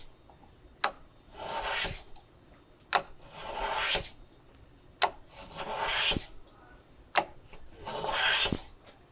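Wood is sawn with a hand saw to cut a tapered sliding dovetail, heard as four rasping strokes close by, each starting with a sharp tap and swelling into a gritty scrape, separated by short pauses.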